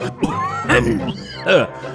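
A cartoon character, the animated Gopal Bhar, coughs hoarsely in a few voiced bursts, an actor's voice imitating a heavy, throaty coughing fit.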